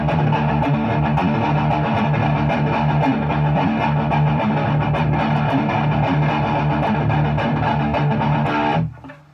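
Loud, dense electric guitar chugging a fast triplet riff, heavily palm-muted for a percussive, driving pulse that runs steadily for several seconds and then cuts off abruptly.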